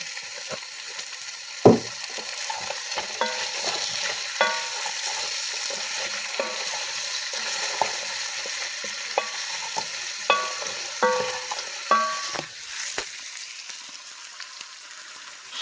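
Seasoned meat fries in hot oil in a pan, a steady bright sizzle punctuated by repeated scraping and stirring knocks of a utensil, close and continuous with no talking.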